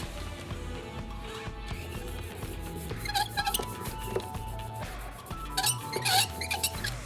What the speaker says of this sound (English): I didn't cut the sound out so you could hear the squeaking of the brayers.